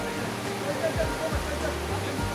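A stream at a trekking water crossing near Devkund in Tamhini Ghat, deeper here, rushes in a steady close wash while a person speaks over the flow.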